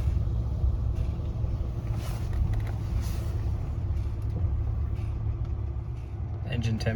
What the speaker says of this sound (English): it's idling quite steadily at 800 rounds per minute